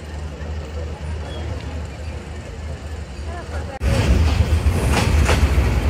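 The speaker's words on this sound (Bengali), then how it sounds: "কুলিয়ারচর রেল স্টেশন ছেড়ে যাচ্ছে কিশোরগঞ্জ অভিমুখী 11 সিন্ধুর প্রভাতী" The Kishoreganj-bound 737 Up Egarosindur Provati Express pulls out of Kuliarchar railway station, heard from on board: a low rumble of rolling wagons that swells abruptly louder partway through, with wheel clatter.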